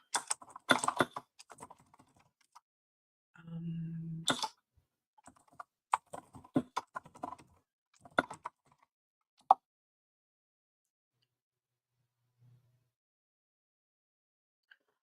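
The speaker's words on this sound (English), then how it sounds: "You're gonna hear my keyboard again." Bursts of keyboard typing, close and crisp, in irregular clusters separated by pauses, with a brief murmured voice partway through.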